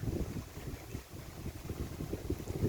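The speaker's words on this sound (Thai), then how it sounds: "ตอนนี้ลมแรงมากนะคะ" Strong wind gusting outdoors at a hilly reservoir area ringed by mountains, a low buffeting rumble against the microphone that swells and eases in uneven gusts, close and fairly loud, no voices.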